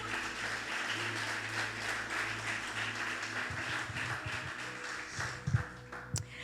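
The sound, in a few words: church congregation applauding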